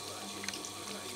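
A water pump runs with water flowing, making a steady rushing, hissing stream like an open tap. It is close and continuous, with a faint clink partway through.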